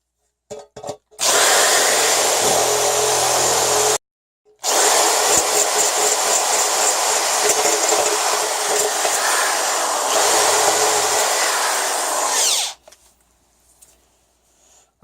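A power drill whines at high speed through a cracked crash cymbal in two long bursts, the first briefly cut off, with a harsh grinding screech throughout.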